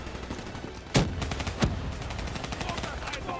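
Gunfire in the video game Call of Duty Black Ops III, with two sharp shot bursts near the start amid a busy, continuous game soundscape and a voice talking over it.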